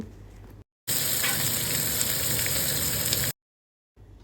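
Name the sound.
onion and vegetables sizzling in oil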